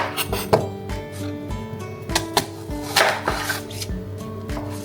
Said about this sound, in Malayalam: അപ്പം നമുക്ക് ആദ്യം ഉള്ളി അരിയാം.